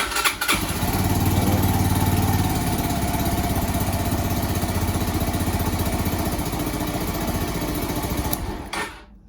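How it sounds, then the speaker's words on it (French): A Brixton BX 125 motorcycle engine cranks and catches, then runs at a steady, throbbing idle for several seconds before cutting off abruptly. "Il s'efface peut-être quand on démarre la moto."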